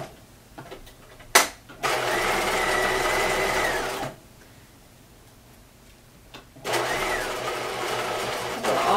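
A sewing machine stitches a skirt in two sustained runs of fast, even whirring, close and steady, separated by a pause and an opening clunk, with no talking over it.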